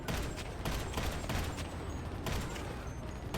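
Steady, dense gunfire from GTA Online, a continuous rattle of rapid shots that stays loud and even throughout, with no talk.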